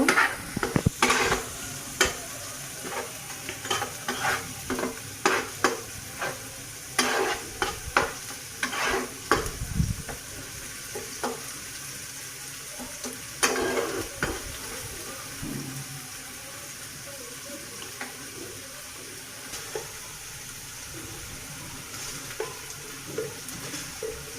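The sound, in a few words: spices being sautéed in a pan for koi fish dopeyaja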